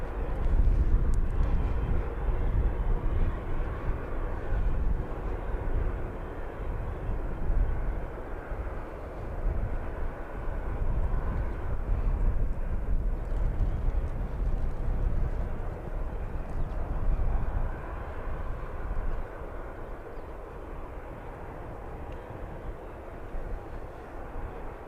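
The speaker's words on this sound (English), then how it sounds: "So many aircraft backtracking this morning." A jet aircraft backtracks along the runway at London Luton Airport, its engines a steady, broad rumble at moderate distance that holds throughout and eases slightly toward the end, with no voices.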